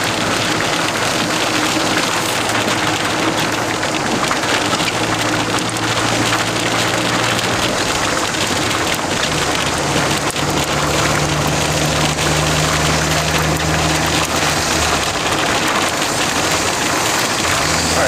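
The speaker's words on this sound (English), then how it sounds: "Listen to that rain." Heavy, steady rain pours down continuously, drumming on a surface with a dense, unbroken hiss and low rumble underneath.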